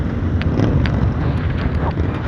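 Wind blowing across a microphone outdoors at a café racer motorcycle gathering, a steady low rumbling buffet with a few faint clicks and knocks, no talking.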